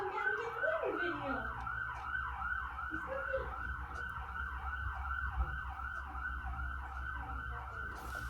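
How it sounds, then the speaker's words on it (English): Fire engine siren wailing steadily through a town, a repeating rising-and-falling electronic wail over a low engine rumble, fairly distant and faint, with no speech. "And we got the fire engines going out here now."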